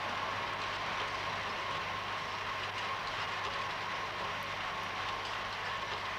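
A railway train carrying parcels of books runs with a steady, continuous rumble and hum, loud and unbroken throughout.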